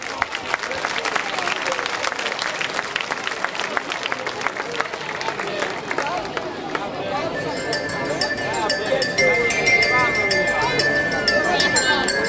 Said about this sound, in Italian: Robert! Un applauso!